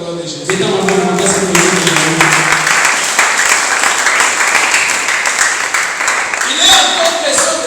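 A church congregation applauds and cheers in praise. The clapping and shouting swell into a loud, continuous roar after a short opening of song-like voices, with raised voices throughout.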